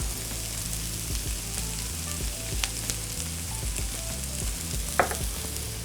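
Softening vegetables and garlic sizzle in a pan while pork shank osso buco is prepared, making a continuous close crackle with a couple of sharper pops and a low hum behind it.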